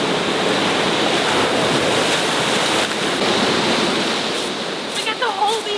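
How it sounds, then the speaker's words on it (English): Surf washes over a pebble beach on the Cinque Terre coast, a continuous close rush of water and rattling stones that eases slightly near the end, with wind buffeting the microphone. "you can hear the pebbles go back into the water when the water recedes"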